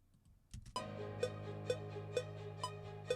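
Click track in music software: a sharp, regular metronome tick repeats about every half second over a sustained tonal backdrop, close and clear with no voices.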